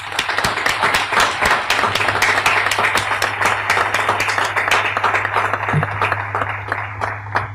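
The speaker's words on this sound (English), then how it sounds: "Please join me in a huge round of applause for what the men and women of Norfolk Naval Shipyard and our support activities have" Sustained audience applause at a Norfolk Naval Shipyard change of command ceremony, dense steady clapping from a large crowd that continues throughout with a low hum beneath.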